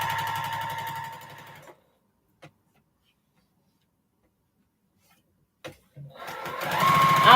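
A sewing machine stitching fabric runs with a steady mechanical whir for under two seconds before cutting out, followed by a quiet gap, a few faint clicks and a brief resumption of machine noise.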